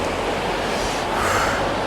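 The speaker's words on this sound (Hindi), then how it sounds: "वो रहा सामने बड़ा सा शावर, मतलब झरना। ये पानी कितने ऊपर से गिर रहा होगा" A tall waterfall plunging some 200 to 250 feet on the Jalori Pass road roars as a steady, loud, broadband rush of falling water, continuous with no other sounds.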